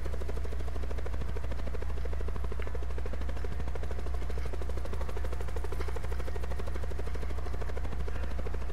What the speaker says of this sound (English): Hey, there's a chopper here.